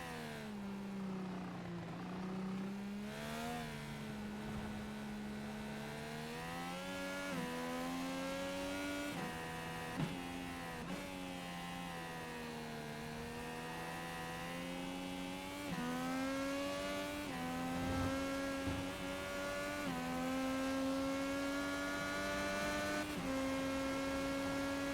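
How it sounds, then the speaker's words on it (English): IndyCar engine in a sim racing game on the Indy Road Course, droning steadily as the driver lifts and coasts, pitch dipping and rising in repeated cycles with no talk over it. "You can hear the coasting that he's doing throughout this race. The lifting coast, as it's known."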